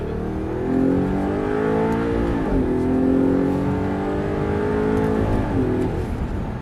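An Audi R8 V8 revs hard while accelerating on a track, its engine note climbing, dipping briefly and climbing again as it pulls, heard loud from inside the car with no talking.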